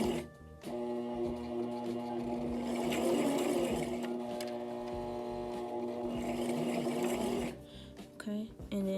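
A sewing machine stitches fabric during a thrift-flip garment sewing project, its steady motor hum and rapid needle clatter running for about seven seconds before it stops, followed by light handling sounds.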